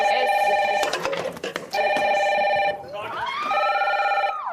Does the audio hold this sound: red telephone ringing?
yes